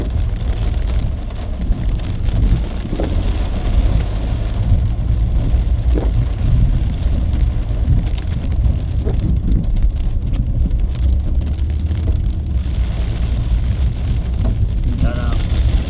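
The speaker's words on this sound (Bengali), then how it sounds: "এই যে আবার বৃষ্টি, আবার খুব গুরুতর বৃষ্টি, দেখেন বাতাস সহ" Heavy rain with wind beating on a car, a loud continuous roar of drumming rain and rumbling air that fills the whole stretch without letting up.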